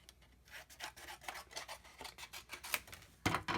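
Cardstock being trimmed on a paper trimmer gives a series of close rasping, scraping strokes, steady and quiet, ending in a sharper louder cut.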